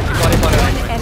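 A shotgun blasts in the Valorant shooter game, giving one loud, close, booming burst of gunfire that fills the whole short moment.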